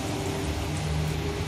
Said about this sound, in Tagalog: Pero ngayon, ulan talaga siya na ulan.